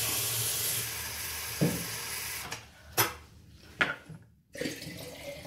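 Water poured from a cup onto rice in a pot, a continuous hiss and splash at first, then a few short separate pours and sloshes with quiet gaps between them.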